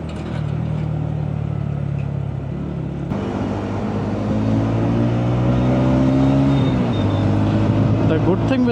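TVS Ronin motorcycle engine pulling hard through the gears on an Indian highway, the pitch climbing and dropping with each shift, loud and close with steady wind noise.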